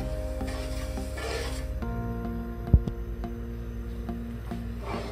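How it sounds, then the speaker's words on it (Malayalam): Water and sugar stirred in a pan on medium flame for Bombay halwa, steady scraping and swishing strokes with one sharp clink of the spoon against the pan, close and moderately quiet, no talking. "ഇനി നമുക്കിത് ഈ പഞ്ചസാര അലിയുന്നത് വരെ ഒന്ന് ഇളക്കി കൊടുക്കുക."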